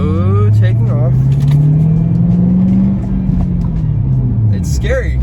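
A Ford Mustang with a manual shifter pulls away from a start in first gear, its loud engine note rising steadily and then easing off, heard up close from inside the car.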